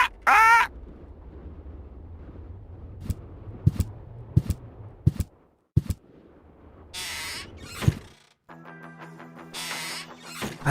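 Squawks and chirps from a bird in the adventure game Deponia, in short bursts spread across the scene with clicks and a brief electronic tone near the end, no talk.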